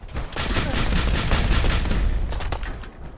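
Repeated gunfire in Fallout 4's Nuka World, a fast volley of loud, booming shots close together for about two seconds, then a few scattered bursts as it trails off.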